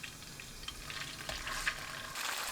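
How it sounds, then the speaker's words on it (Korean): Tofu slices pan-frying in cooking oil over medium-high heat for a braised tofu and bean sprout dish, giving a steady, fairly quiet sizzle with a few small crackles and pops near the end. "팬에 식용유 두르고 중강불로 두부를 위아래 노릇하게 구워줍니다."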